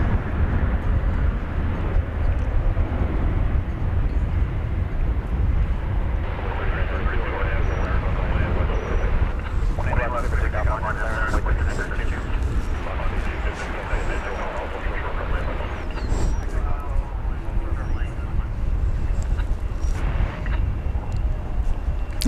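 Airbus A220 jet at DFW Airport, a broad continuous roar of the aircraft engines swelling and shifting in the distance for the whole stretch, with a voice talking over it.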